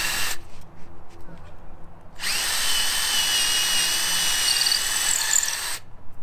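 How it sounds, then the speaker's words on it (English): A power drill bores a hole into a wooden grape trellis post, a steady loud whine running for several seconds after some quiet handling noise. "I just like to drill a hole right kind of where you wanna put it."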